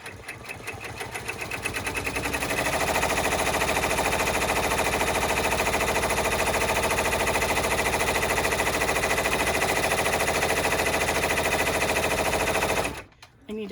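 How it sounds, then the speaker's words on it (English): A sewing machine runs a long, continuous satin stitch across a white panel of a Stars and Stripes clutch, a loud, fast, even rattling drone that holds steady before stopping abruptly at the end. "So now it's going to do the satin stitching"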